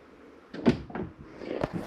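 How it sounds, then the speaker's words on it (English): Cabinet doors and drawers being shut inside a 2023 Flagstaff Superlite 29RBSD travel trailer, a few close wooden thumps and clacks spaced about a second apart over a quiet background. "Walk through the unit, make sure all doors and drawers are closed."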